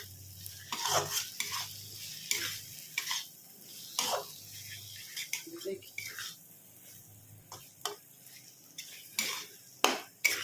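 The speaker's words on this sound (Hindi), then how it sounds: "देखिए मसाले हमारे बिल्कुल भून चुके हैं। मटर भी हमारे भून चुकी है।" Spices and peas fry in a pan for a potato and jackfruit curry with Kashmiri red chili and crushed kasuri methi. A quiet sizzle runs under sharp, irregular scrapes and clinks from a spoon stirring against the pan.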